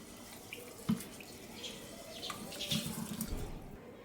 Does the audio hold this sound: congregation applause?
no